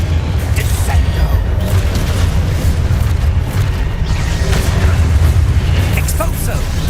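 Descendo spell slamming down in Hogwarts Legacy, dense low rumbling booms and mechanical crashes throughout, loud and continuous alongside game effects and a voice.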